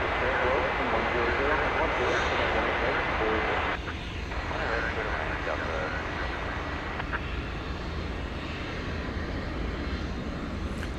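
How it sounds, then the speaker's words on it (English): A Spirit Airbus A321 jet at Dallas Fort Worth airport at night produces a loud, sustained engine roar that dips slightly after a few seconds and then carries on steadily. "Spirit Flight 200 is going to Los Angeles. It's an Airbus A321."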